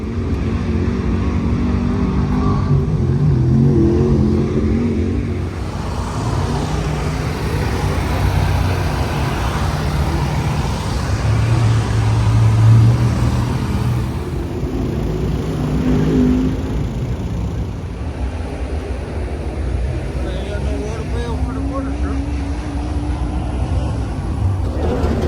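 Race cars run on a 3/8 mile dirt oval at Senoia Speedway, a steady, broad engine roar that swells and eases over about 25 seconds without pause, with no talking.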